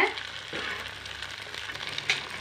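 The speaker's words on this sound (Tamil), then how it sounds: "அதுலேயே இந்த முட்டையை வந்து உடச்சி ஊற்றி, முட்டை பொடி மாஸ் பண்ணுவோம்" Eggs frying in a pan for Tamil-style egg podimas, a close, steady crackling sizzle with occasional stirring scrapes and pops.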